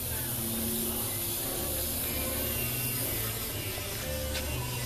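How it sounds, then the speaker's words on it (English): A spray paint can hisses outdoors in a long continuous spray, close and fairly loud, with a faint background hum and no speech over it. "You wanna do the spray paint piece at least outside."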